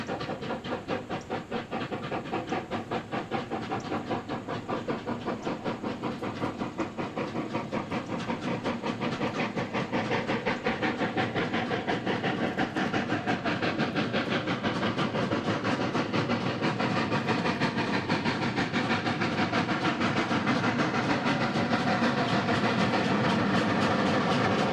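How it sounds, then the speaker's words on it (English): Steam locomotive No. 1293, a 4-6-2 Pacific under steam near Coshocton, gives a long, steady stream of rapid rhythmic chuffing and hiss with rail clatter, growing slightly louder over about 25 seconds. "462 Pacific number 1293 is under steam, and we'll see several double steam run-bys in the Coshocton area."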